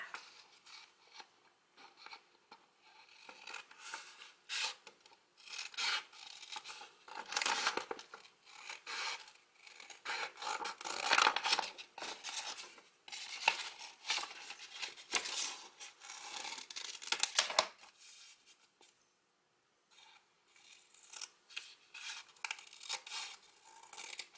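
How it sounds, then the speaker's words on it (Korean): Scissors snipping through a stack of A4 paper layered with OSP film, a string of dry raspy cutting strokes at close range, irregular and moderately quiet, with a short pause near the end. "A4 용지와 필름을 OSP 필름을 서로 겹쳐놓고 마찬가지로 가로가 2cm, 세로가 13cm 정도로 잘라주도록 합니다."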